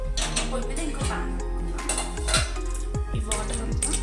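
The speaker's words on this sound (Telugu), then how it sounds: "పొయ్యి మీద ఇంకో పాన్" A metal pan set down on a kitchen stove, a series of sharp clanks and rattles of cookware, loud and close.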